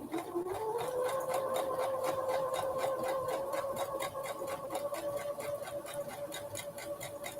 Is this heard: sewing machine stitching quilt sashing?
yes